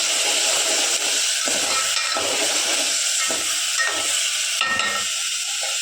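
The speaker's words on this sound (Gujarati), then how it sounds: "હવે આપણે મરચાં નાખી દઈશું" Chilies sizzle and crackle in hot oil with peanuts, a steady close frying hiss broken by the scrape of stirring.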